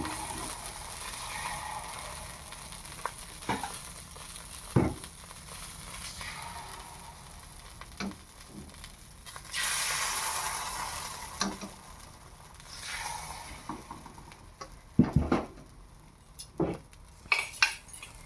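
Pitha batter poured into a hot pan greased with mustard oil and salt water for a Bengali pitha, sizzling and hissing steadily with scattered utensil clinks and scrapes throughout.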